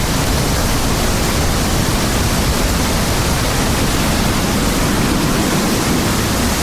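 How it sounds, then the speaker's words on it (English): Loud, continuous rumbling wind buffets the microphone despite a windscreen, on a ridge line above a river valley in November; a dense broadband roar with no pauses and nothing else audible over it. "Extremely windy today, so there's going to be a lot of wind noise even with my my windscreen on my microphone"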